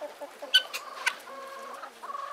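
Guinea fowl call in a series of close, harsh, clucking cries, with several sharp peaks among shorter chattering notes and no talk.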